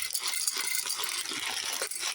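Dry pasta, about half a bag, tumbles into a pot, a continuous light rattle and clatter of hard pieces lasting a couple of seconds, close and without talk.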